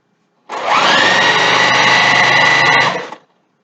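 A sewing machine runs in one loud, continuous burst of about two and a half seconds while stitching down a fabric mask strip, its motor whirring steadily with a rapid needle chatter before stopping abruptly.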